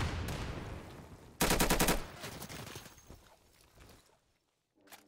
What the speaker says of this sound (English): Fear will be able to come through with a well-placed snipe.